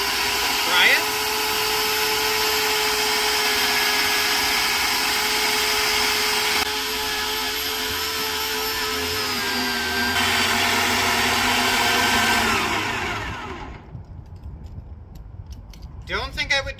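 Vevor electric winch reeling in steadily as it pulls a Craftsman LT1000 lawn tractor off a trailer, a loud continuous motor whine with a steady drone for about thirteen seconds before cutting off, followed by quieter clanks and handling noises.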